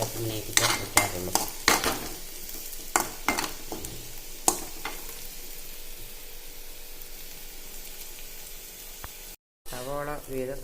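Onions fry in a pan for a Vanpayar pulinkari curry. Sharp spatula clinks and stirring scrapes come early, then settle into a quieter, steady sizzle, and a voice starts talking right at the end.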